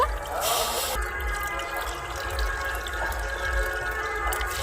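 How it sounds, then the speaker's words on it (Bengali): Water poured bowl by bowl into a pan of sugar for making rasgulla syrup in a Bengali kitchen, a steady close splashing and trickling with a brief louder gush near the start. "এই বাটির মাপ করে আমি চার বাটি জল দিয়ে দেব"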